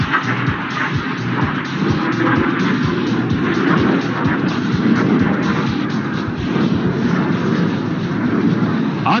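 An HAL Tejas fighter jet at the Dubai Air Show roars past inverted, a loud continuous rumbling jet noise filling the whole stretch without letup.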